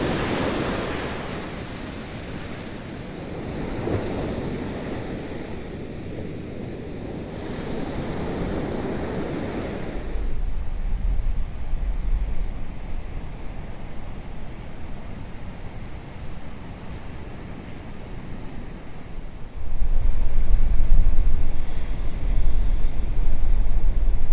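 Ocean surf breaks steadily on a beach, a continuous wash of waves with gusts of wind buffeting the microphone, swelling louder near the end; no one speaks.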